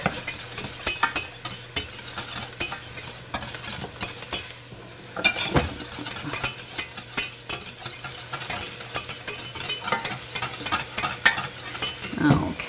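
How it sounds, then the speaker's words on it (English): Flour being stirred into melted butter in a pot gives a close, soft sizzle with scraping and clinking of a utensil against the pot, uneven in rhythm, no talking. "then we add our flour in there as soon as my butter is melted"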